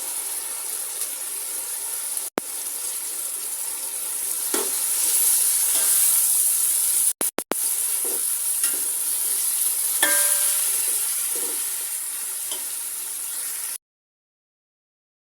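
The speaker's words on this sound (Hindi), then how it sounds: "साथ थोड़ा थोड़ा पानी डाल के मसालों की बुनाई करनी है।" Spices with chili powder and turmeric frying in a pan with a little water added for chicken biryani, a steady soft sizzle and hiss broken by occasional scraping stirs and clinks of a spoon.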